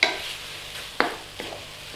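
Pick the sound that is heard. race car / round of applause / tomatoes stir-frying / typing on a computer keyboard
tomatoes stir-frying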